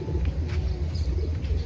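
Racing pigeons coo steadily at their loft, a low rolling murmur from several birds layered over one another, with faint chirps on top and no talking.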